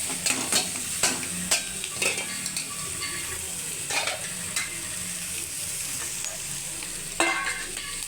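Onions frying lightly in a pan for a beans palya lunch dish, with a soft steady sizzle under repeated scrapes and clinks of a spoon stirring against the pan.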